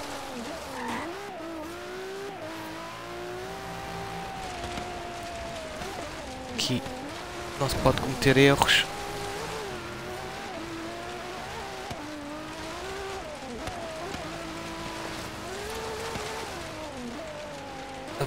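A car races on a dirt track in Forza Horizon 3, its engine droning and rising and falling in pitch throughout, with a brief burst of tyre noise in the middle. Someone talks over it.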